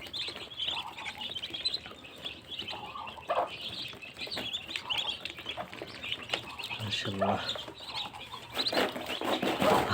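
Muscovy ducklings on a farm peep and chirp restlessly while waiting for food, a dense, continuous chorus of high calls that grows louder toward the end.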